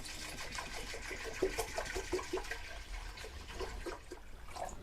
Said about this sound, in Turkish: Tam 4 litre su koydum.